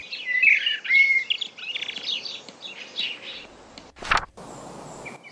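Blackbirds chirp and tweet in short, bright bursts, fairly close, fading out, followed by a brief rustling noise.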